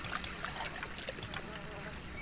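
A child splashes in toilet water in a Sims game, faint trickling and dribbling water with small irregular splashes throughout, quiet and steady over a soft background hiss.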